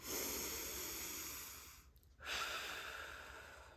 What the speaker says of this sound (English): breathe in through your nose